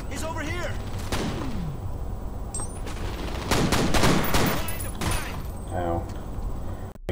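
Gunfire bursts in the horror shooter F.E.A.R., a dense volley of shots with sharp transient cracks scattered across several seconds, with game voices and other effects mixed in.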